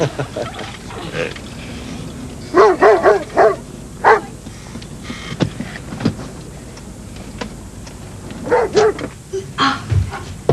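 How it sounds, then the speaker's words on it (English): Large guard dog barking in bursts of two to four deep woofs, close and loud, with pauses and some whining in between and a person's voice faintly in the background. "Oh, he's a guard dog."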